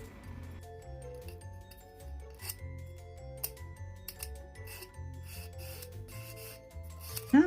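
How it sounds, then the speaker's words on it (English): A small nail file rasps across a miniature cast to smooth off sharp points, giving faint, close rubbing strokes in an uneven rhythm with a few light ticks, and no talk. "I'll take a little nail file and just kind of sand everything kind of smooth so there's no sharp points"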